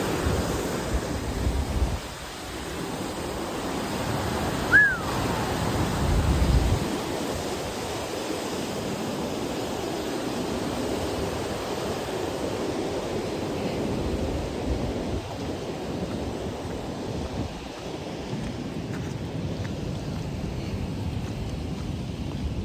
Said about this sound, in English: Oh, that's a gnarly river.